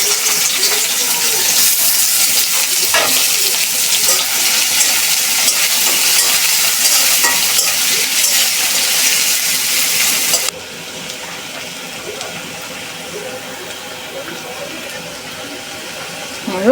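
Sliced onion frying with chepa dried fish in a hot pan, giving a loud, continuous hissing sizzle that suddenly drops to a softer sizzle partway through.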